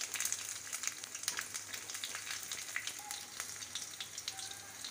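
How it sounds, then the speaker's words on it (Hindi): Cumin seeds crackle and splutter in hot oil while tempering for kadhi pakora, with a dense, steady fizz of fine pops and sharper snaps throughout and no voices. "इसे तड़कने देंगे"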